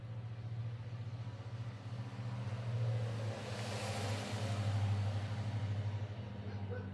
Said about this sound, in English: a couple trucks went by.